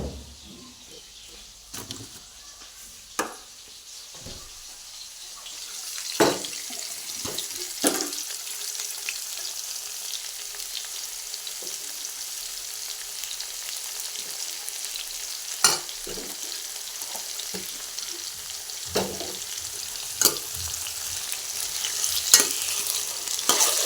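Ginger stirring and frying in a pan, a steady sizzle with scraping stir strokes and occasional clinks near the mic, no talk.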